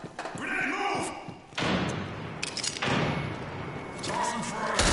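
A grenade blast from a team-based round of the video game Ghost Recon Wildlands, a loud broadband burst with a rumbling tail, followed by a second burst a second later, amid game voice callouts.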